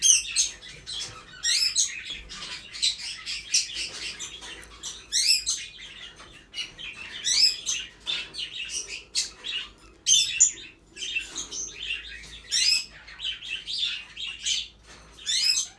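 Tame pet birds chirp and tweet in rapid, high bursts that repeat throughout, close and fairly loud indoors, with no voices heard.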